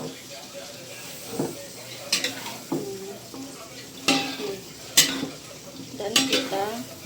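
A spatula stirs lumpia filling with garlic and pepper in a pan, giving sharp intermittent scrapes and clacks over a soft frying sizzle, while someone talks now and then.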